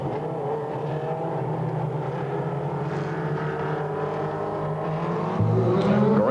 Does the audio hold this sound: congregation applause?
no